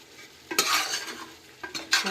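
Red chilli powder frying in a hot pan for ghee rice chicken gravy, with close scraping stir strokes and short bursts of sizzle at about one, then two more brief flare-ups near the end, no voices.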